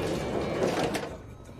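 Elevator doors slide in the Battlefield 2042 video game, a soft rushing whoosh lasting about a second and a half that fades out toward the end, fairly quiet, with no talk.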